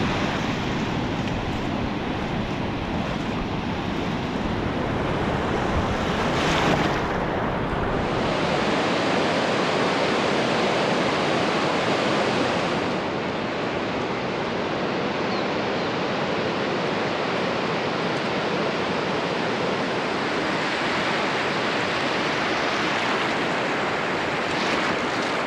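Ocean surf rolls onto the beach at Ocean Shores as a steady, loud, broadband roar with gentle swells in intensity and a hint of wind, unbroken for the whole stretch with no voices.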